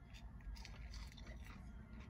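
Fresh, hot fast-food fries are bitten and chewed close up, giving soft, quiet crunches and mouth sounds over a low background hum for about two seconds, with no talking.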